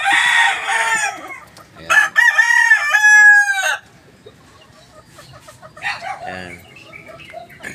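Backyard stags, young roosters, crow loudly nearby in a couple of long bursts, with clucking and softer fowl calls between them.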